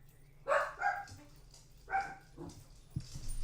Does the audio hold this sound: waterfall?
no